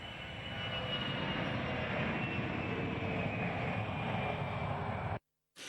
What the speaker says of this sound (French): Roch Marc Christian Kaboré raccompagne son hôte de marque à son avion qui redécolle.